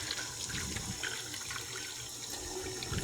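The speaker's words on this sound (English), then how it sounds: "And then rinse really good." Running water from a tap rinsing breast pump kit parts such as the flange, a steady continuous splashing flow, close and fairly loud with no voices.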